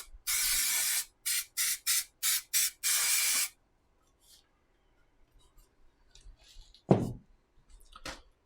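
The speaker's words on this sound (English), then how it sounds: "So there's my spray." Silver aerosol spray paint hisses in one long burst, then several short, evenly spaced bursts and a final longer spray, close and loud, followed by quiet handling clatter and a faint thump.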